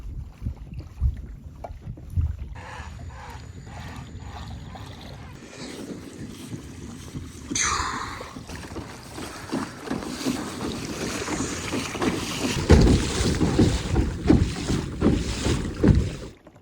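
Kayak paddling against current and wind near a remote mangrove island: close paddle strokes splashing and water lapping, set against gusting wind noise that grows heavier toward the end.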